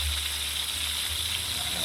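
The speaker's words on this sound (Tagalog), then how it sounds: "Yan, prituin muna natin bago iskabitsi." Maya-maya fish frying in hot oil, a steady close sizzle with a low hum underneath, no voices.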